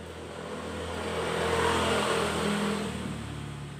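A chainsaw engine revs during carburetor adjustment, its steady buzzing drone swelling up in the middle and then easing back toward idle, heard alone at moderate distance.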